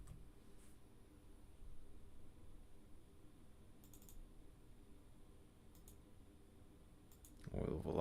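A computer mouse clicks during a severe-thunderstorm weather radar review, giving a few faint, sparse clicks over a low steady hum before a voice begins at the end.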